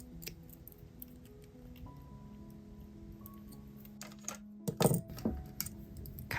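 Snips of scissors or cutters trimming excess beading wire on a handmade beaded anklet, a few sharp clicks near the end amid quiet handling noise and faint hum.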